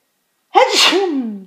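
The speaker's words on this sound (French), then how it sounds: "Je vais éternuer" A single loud, close human sneeze bursts out suddenly after silence, then trails into a drawn-out voiced exhale.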